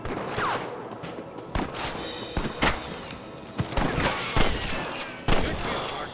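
Gunfire rings out in Red Dead Redemption: irregular loud shots, some close and punchy, others more distant, scattered across a busy firefight with faint voices underneath.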